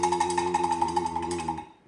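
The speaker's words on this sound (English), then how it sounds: "the last thing in the hitting category is this thing, which is a cowbell" A handheld cowbell used as a percussion instrument is struck in a rapid run of bright metallic clanks with a ringing tone, close and clear, then stops and fades.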